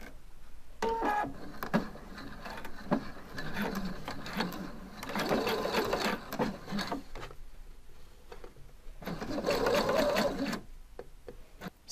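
Sewing machine running in bursts as it stitches a side seam, right sides together, with satin bias tape; steady mechanical whirring stops and starts several times, close and fairly loud, with brief pauses between runs.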